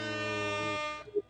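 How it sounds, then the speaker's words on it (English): A loud, brassy air horn sound effect on a radio show blares for about a second, then cuts off as a voice starts to speak. "That was the air horns for Frank."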